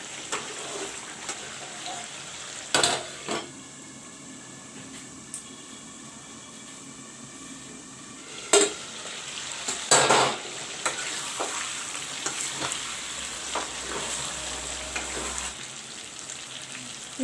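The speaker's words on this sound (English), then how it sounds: "Now I will fry the chicken and the masalas in this oil." Chicken pieces and masala spices frying in hot oil in a pan, a continuous soft sizzle broken by several sharp stirring scrapes and clatters, close by.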